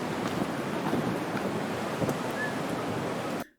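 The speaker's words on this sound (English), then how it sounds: "It's just the ocean." Ocean waves at La Palma wash in a continuous broad rush with light wind buffeting, heard close and unbroken until the sound cuts off abruptly at the end.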